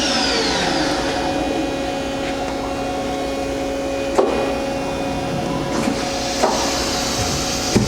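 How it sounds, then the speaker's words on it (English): A Fadal 3016L vertical machining center hums steadily with tonal machine whine and fan noise, broken by a few sharp clunks and knocks as the tool changer cycles, close and loud with no talking. "Simulating a tool change, or actually doing a tool change."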